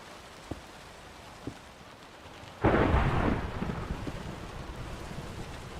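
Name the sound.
thunderstorm in the video game Minecraft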